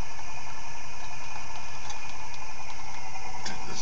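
An experimental three-phase chassis engine idles at about 650 RPM, a steady, even, close hum with faint regular ticking and no voices.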